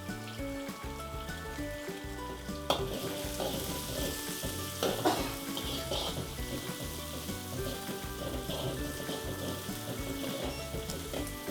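Paneer fries and browns in a pan with a steady crackling sizzle and occasional stirring clatter, alongside music-like tonal background sounds.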